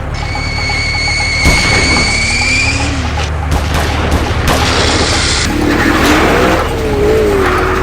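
A car accelerates hard and skids away, its tires squealing in rising and falling shrieks over a loud engine, with sharp bangs and booms breaking through.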